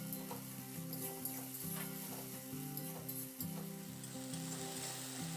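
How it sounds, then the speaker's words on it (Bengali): Spice paste with onion and a splash of water fries in a pan while being stirred, a constant close sizzle with rhythmic scraping and faint clinks of the spoon. "এরপর মশলাটাকে নাড়াচাড়া করে আমি একটু কষিয়ে নেব।"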